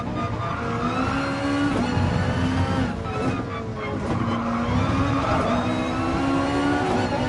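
Race cars in Gran Turismo Sport run in a pack, with continuous loud engine whine shifting in pitch and bursts of tire squeal through corners.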